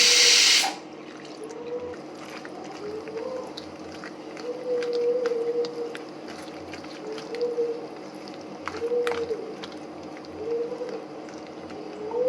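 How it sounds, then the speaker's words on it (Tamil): Water is poured little by little into wheat flour batter for potato cheese balls, heard as soft intermittent splashing and sloshing in repeated short bursts, close and fairly quiet. "இந்த கோதுமை மாவில் தண்ணி கொஞ்சம் கொஞ்சமாக சேர்த்து"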